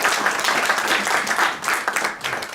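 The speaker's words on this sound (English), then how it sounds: "please give all these guys a first round of applause" An audience at a jazz book conversation event applauds the panel, a loud, dense wash of clapping that runs steadily throughout and dips briefly near the end.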